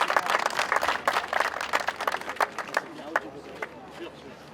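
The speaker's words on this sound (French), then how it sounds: "Bravo. Applaudissements s'il vous plaît." An audience applauds after a trophy presentation at a closing ceremony, a dense burst of clapping that starts loud and gradually thins to scattered claps, with faint crowd murmur underneath.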